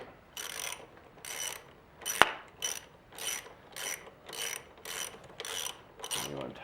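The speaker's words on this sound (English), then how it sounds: "You want to tighten your caliper bolts." A hand ratchet tightens the brake caliper bolts on a Suzuki, giving about nine evenly spaced bursts of clicking pawl strokes, close and clear, with a sharp metallic clink partway through and no talk.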